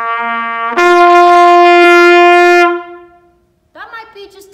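A trumpet plays a lip slur with too much air, a loud, blatty, brassy tone held for about two seconds that then fades. A short, quieter vocal sound follows.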